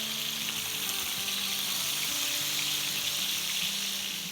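Chicken pieces with onions and garlic sautéing in a hot pan, a dense, continuous, close sizzle that holds evenly throughout with no voices.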